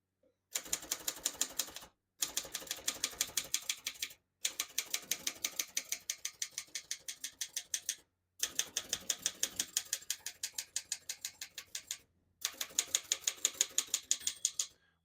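A 1956 Underwood Universal vintage portable manual typewriter types in rapid, even bursts of sharp key strikes, with several short pauses between runs of typing, close and clear with no talking.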